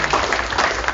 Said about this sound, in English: I feel like we need to give Rob another round of applause.